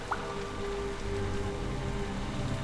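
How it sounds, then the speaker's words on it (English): Steady rain falls in the video game The Lion's Song, a dense continuous hiss with soft drips that holds an even level throughout, without any voice. "Rain. The water's rising."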